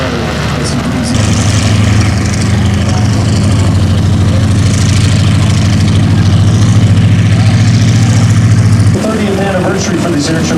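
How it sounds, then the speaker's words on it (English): A P-40 Warhawk touches down on an airshow runway, its engine a loud, steady, close droning roar with a deep low hum that holds for several seconds and then cuts off abruptly near the end. "But with one more great look as Dan sits down the P-40 Warhawk on the runway, you watch the main gear touch"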